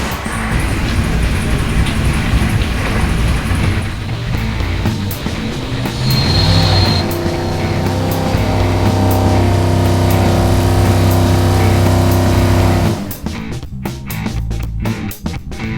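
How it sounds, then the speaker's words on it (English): A GM LS2 crate engine with MEFI EFI runs on a dyno, holding a loud, steady roar that climbs in pitch as it revs, then drops off abruptly near the end. "Let's go ahead and get our LS2 on the dyno and make a few runs to see how much power we can get out of it."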